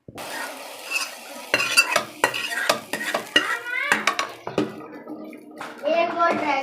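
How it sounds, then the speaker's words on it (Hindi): Hot oil tempering sizzles and crackles in sharp bursts as it is poured into kadhi while a spoon scrapes and stirs in the pot, with a voice talking quietly underneath. "अब ये जो तड़का डाल देते हैं कढ़ी में"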